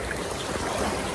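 A waterfall pours continuously, a dense steady hiss of flowing water that fills the brief moment without any break or voices.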